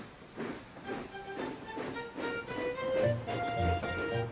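Toy model steam engine puffing along rails, a steady rhythmic chuff with hiss and faint clickety-clack over soft background music, gradually growing louder.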